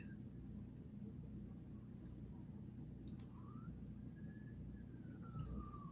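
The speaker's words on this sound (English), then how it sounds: "I hear the sirens." A siren wails faintly in the distance, its tone rising and falling over a steady low rumble of traffic.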